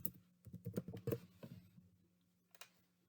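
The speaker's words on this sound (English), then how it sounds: "Type in your username and your password." Quiet keystrokes on a computer keyboard as a username and password are entered, a quick irregular run of clicks for about a second and a half, then a pause and a final couple of taps, with no talking.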